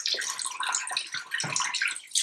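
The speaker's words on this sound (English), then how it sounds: "So the next step is to actually wash your hands in warm water for at least 2 minutes." Hands are washed under warm running water from a tap, a steady close hiss and splash with uneven rubbing and splashing bursts throughout, no voices heard.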